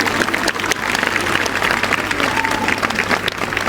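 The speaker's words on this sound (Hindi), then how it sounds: "अपने लिए जोरदार ताली बजाओ भाई" Loud applause from a large gathering of women at a Delhi political event, dense rapid clapping that swells and holds steady throughout, close and energetic with no voices over it.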